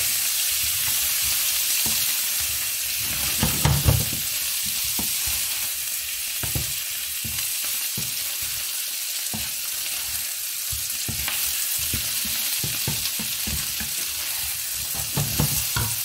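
Shrimp added to a very hot frying pan with tofu for a tofu and shrimp sauté, sizzling steadily and loudly throughout with a few louder bursts and scraping stirs, no voices.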